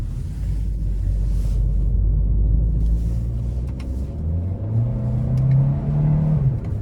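Turbocharged 1.6-liter four-cylinder in a 2025 Hyundai Kona accelerates, a steady low cabin rumble with rising engine drone and tones climbing through the gears, heard from inside the car.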